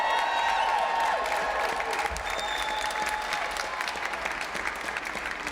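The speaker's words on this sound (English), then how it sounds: "give yourselves a round of applause" Dense, steady applause and some cheering from a rally crowd at a data center moratorium rally, loud and close, filling the whole stretch without a break.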